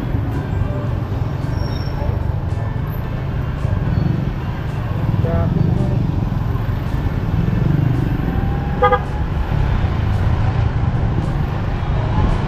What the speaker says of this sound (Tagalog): Maganda pala yung palitan ng busina yung motor ko ganito.